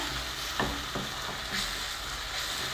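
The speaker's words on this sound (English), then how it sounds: "For fish masala, give it a stir" Fish masala with cooked tomatoes fries in a pan, a steady close sizzle with a few distinct spoon scrapes as the mixture is stirred around.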